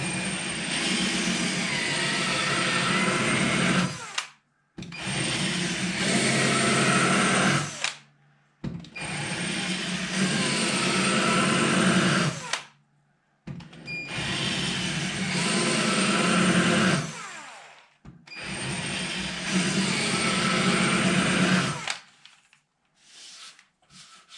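Rolling pin sander working across ash and alder wood, a loud whirring power-tool drone in four long passes of several seconds each, separated by brief drops to near silence.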